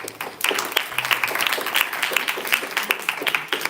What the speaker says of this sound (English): big round of applause to Raji